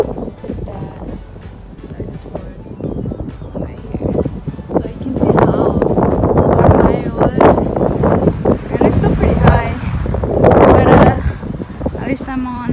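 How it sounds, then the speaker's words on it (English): Strong wind gusts buffet the microphone on a mountain trail at Castle Crags, a loud roaring rumble that swells and eases, with a person talking at times over the blustering noise. "Damn, that wind."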